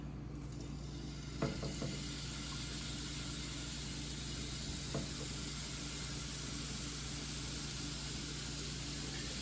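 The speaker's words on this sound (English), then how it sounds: "We're ready to start searing these steak bites. So we're going to start adding them into the pan." Steak bites searing in a large hot pan give a steady, dense sizzle, with a few faint clinks as pieces go in, and the hiss stays constant throughout.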